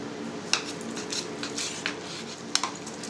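Knife cutting sulguni cheese curd in a pot, with soft scraping and a couple of sharp metallic clinks against the pot in a quiet kitchen.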